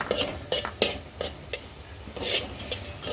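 Potatoes stir-fry with tomato, onion and jaggery in a pan. A spatula makes brisk, irregular scraping strokes against the pan over a faint background sizzle, close and fairly loud.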